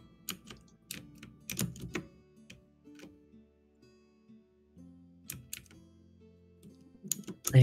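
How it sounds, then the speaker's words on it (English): Computer keyboard clicks in irregular bursts, quiet and close, with pauses between flurries of keystrokes during an online tabletop Pathfinder game session. "I hear your keyboard."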